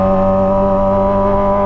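Kawasaki ZX25R motorcycle fitted with a Toce exhaust, held at a steady high-rpm rev, a loud, close, sustained buzzing engine tone with strong harmonics and no voices over it.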